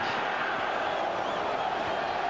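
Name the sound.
football stadium crowd at Celtic v Boavista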